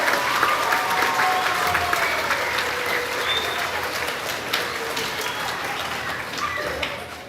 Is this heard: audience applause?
yes